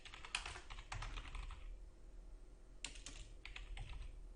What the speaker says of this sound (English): I'll just type out what it is